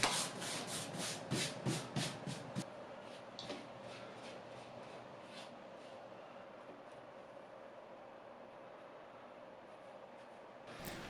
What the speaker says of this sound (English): we're going to do another little scuff sanding just throughout to keep everything smooth